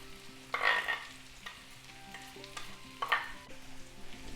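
Chicken liver with dill in sour cream sauce stirred in a pan, two scraping stirs over a soft, steady sizzle of frying, close and fairly quiet with no voices.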